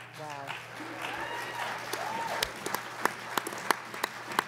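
Audience at a membership meeting panel breaks into applause, starting under a few voices and building into scattered, sharper claps toward the end.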